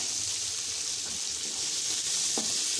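Vegetables frying in a pan for sambhar rice, a steady bright sizzle with a few faint stirring knocks, no voices.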